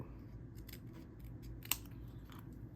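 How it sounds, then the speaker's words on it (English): Scissors trimming a sheet of card stock during card making, a few soft snips and one sharper cut, quiet and close with no talking. "I think I can trim it off now. I'll make that a little smaller."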